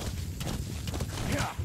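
Horse galloping in the video game Metal Gear Solid V, a rapid run of hoof beats close by and fairly loud throughout, with a busy game soundscape behind it.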